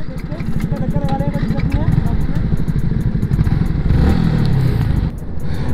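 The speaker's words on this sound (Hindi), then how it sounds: "तो चलो R15 वर्जन 3 चलाने का टाइम आ गया अपन।" A Yamaha R15 V3 motorcycle engine runs and revs with a rapid pulsing exhaust beat, pitch rising and falling with throttle blips, close and loud, with a voice speaking over it.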